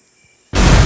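A cannon fires in a Roblox boat-building game, the quiet start cut by a sudden loud blast of broadband noise that holds to the end.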